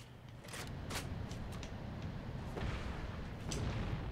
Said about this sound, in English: Someone's got rockets again.